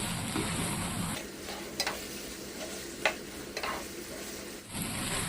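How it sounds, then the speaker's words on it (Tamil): Potato being stirred into prawn curry in a pan, with a soft simmering sizzle and a few scraping clicks of a spoon against the pan, faint and close, with no talk. "இப்போ நம்ம சேர்த்துக்கிட்ட உருளைக்கிழங்கு இறால் கூட நல்லா கலந்துக்கணும்"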